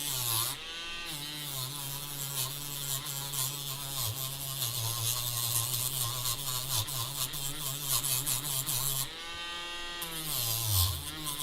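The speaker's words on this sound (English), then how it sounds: "figure up a little bit more sanding here" Hand sanding on a model RC plane build, a steady rasping scrub that runs almost continuously with a short pause and a louder stretch near the end.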